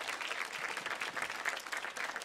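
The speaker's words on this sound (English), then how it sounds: "Let's give them a big round of applause." A church congregation applauds in a main sanctuary, steady dense clapping sustained at a moderate distance throughout with no talk over it.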